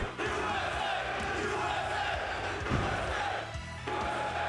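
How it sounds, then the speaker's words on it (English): A large crowd roars and cheers continuously at a RuneScape live event in a stadium, a dense, steady wall of voices with a brief dip near the end. "look at the crowd!"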